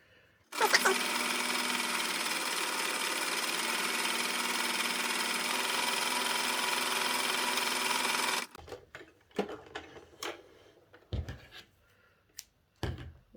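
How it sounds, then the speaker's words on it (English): A sewing machine runs a continuous stay stitch along a fabric edge for a hat, a steady mechanical whir lasting about eight seconds, then stops, followed by scattered handling clicks and thumps. "run a stay stitch along this edge"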